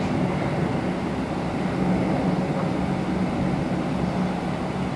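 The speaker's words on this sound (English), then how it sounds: "So first, Jazz 693 from Boston, Embraer 175 coming in now." An Embraer 175 airliner landing at Toronto Pearson gives a steady, loud broadband roar of engines and airflow that holds nearly constant throughout, heard up close with no voices over it.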